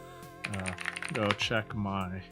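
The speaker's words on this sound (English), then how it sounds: "This is the sound of my keyboard and the types of switches I" Clicky mechanical keyboard typing, key presses tapping in quick bursts beneath someone talking over a game soundtrack with melodic music.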